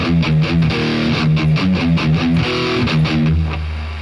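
A distorted electric guitar plays a riff at a slow tempo, loud and close, with distinct sustained chords and picked notes moving in a steady pattern, no talking.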